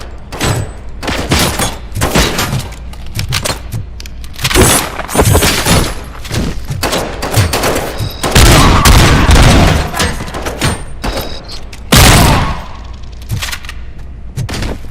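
Gunfire and explosions in the RoboCop: Rogue City video game crack and boom in loud, rapid bursts, with sharp repeated shots and heavy thuds packed densely together.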